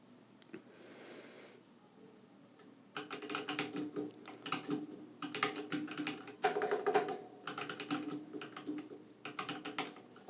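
Typing on a computer keyboard is heard up close in quick bursts of clicking keystrokes, broken by short pauses, with no talking.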